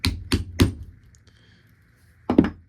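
Four sharp hammer blows on a rivet setter fix a rivet in a leather key fob: three quick strikes in a row, a pause, then a final blow, close and loud.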